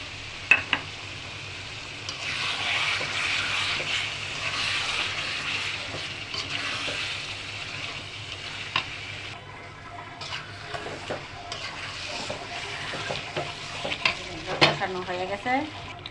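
A blended paste of cashews, almonds, raisins, yogurt and a little sugar stirred and fried in a pan for chicken roast, a soft continuous sizzle with scraping stir strokes and some louder clatters near the end.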